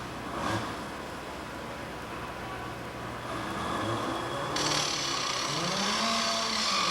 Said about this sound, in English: When the grinder is properly connected, go ahead and turn on the air.